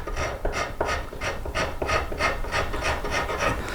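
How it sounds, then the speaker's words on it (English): Hand files shape a flame maple guitar top, giving rhythmic rasping strokes, about eight evenly spaced passes, close and moderately loud with no talking. "I'm just using a combination of files and stuff to kind of get this to where I want it to be"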